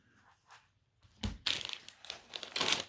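A 1-ounce chip bag being crinkled, starting with a few faint rustles, then louder bursts of crackling plastic, loud and close with no talking.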